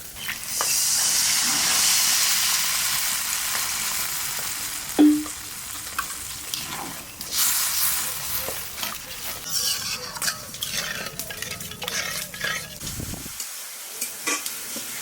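Water poured into spices fried for a Bengali katla fish curry, giving a loud, steady hiss and sizzle that gradually settles into bubbling with intermittent stirring scrapes, ending abruptly.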